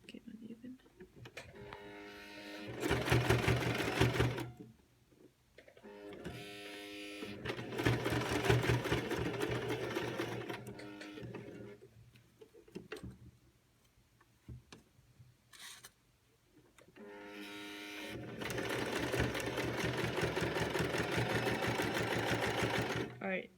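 A sewing machine sews slowly over the pleats of a cloth face mask in three steady whirring bursts separated by pauses, with a person speaking between and over the stitching.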